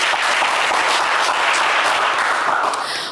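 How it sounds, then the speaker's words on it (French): Studio audience applauding loudly at a French TV game show, a dense burst of clapping that holds steady and fades slightly at the end. "Ça s'applaudit bien fort."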